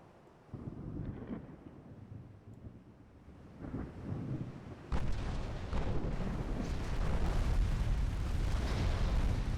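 Small 2.9-inch naval guns firing in the Ultimate Admiral Dreadnoughts naval warfare game, a dense rumbling barrage of overlapping booms that swells after a few seconds into a loud, continuous roar of gunfire.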